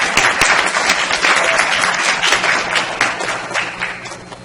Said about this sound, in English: everyone, round of applause for them.